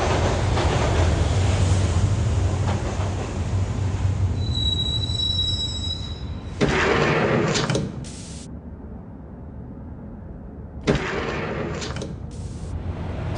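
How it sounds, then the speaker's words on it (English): A subway train in the Max Payne video game rolls toward Roscoe Street Station, a steady loud rumble of wheels on rails with high metallic squeals and two sharp surges of clattering noise. "The train doors had already shut behind me, and I was in for the ride."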